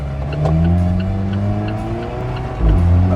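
A 2016 Porsche 911 GT3 RS engine spools up under load, a steady, rising harmonic drone heard from inside the car, swelling louder near the end.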